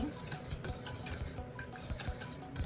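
Seasoned ground meat filling for lumpia shanghai being mixed by hand in a bowl, soft, close squelching and stirring sounds in an irregular rhythm, quiet and without speech.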